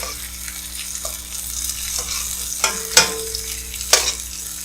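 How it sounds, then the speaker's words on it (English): Breaded chicken fries in a pan with a steady close sizzle, punctuated by a few sharp clicks and taps from a utensil toward the end. "we're just going to cook this for another few minutes until it's browned on the other side and cooked through"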